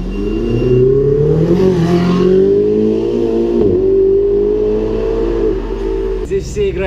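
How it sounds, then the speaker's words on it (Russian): Ferrari sports car engine in Dubai, a loud close rising and falling rev with a strong tonal whine that climbs and dips over several seconds before cutting off. "Феррари, тачка классная"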